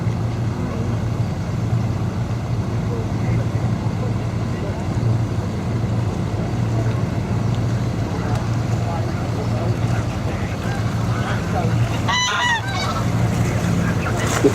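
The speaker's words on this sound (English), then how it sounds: "we've been without a grey lag geese once again" Greylag geese honk on the Norfolk Broads, repeated calls carrying over a constant low boat engine drone, with a louder burst of honking near the end.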